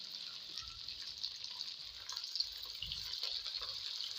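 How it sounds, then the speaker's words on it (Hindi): Okra (bhindi) fries in a pan for a bhindi masala, giving off a faint, steady sizzle with soft crackles and occasional louder spits. "भिंडियों को हम अच्छी तरह फ्राई कर लेंगे।"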